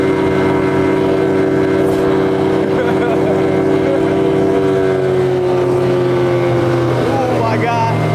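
A tiny boat fitted with twin outboard motors, one an old two-stroke that smokes, revs up hard, the loud steady engine drone rising in pitch as it accelerates. A voice is heard over the motors.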